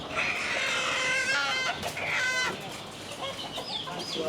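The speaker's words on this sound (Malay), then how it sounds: "Guys, aku jumpa ayam hidup." Live chickens at a local market in Sibu, clucking and squawking repeatedly up close, with busy market noise behind them.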